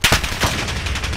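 Call of Duty: Modern Warfare gunfire as a loud, close burst of rapid shots, with a sharp first crack followed by continued rattling fire.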